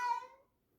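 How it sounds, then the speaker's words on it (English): A house cat gives a single short meow, fairly faint and close, fading out quickly into silence. "That's my cat."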